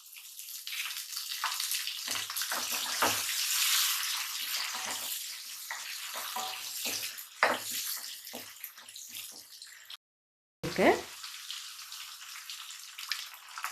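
Tomatoes frying in a pan with curry leaves and shallots for a dry fish curry, giving a continuous close hiss and crackle with a few clatters and a brief gap near the end.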